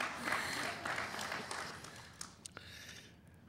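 An audience at a middle school quiz show semifinal gives a short burst of clapping that fades to a few scattered claps, with some crowd murmur underneath.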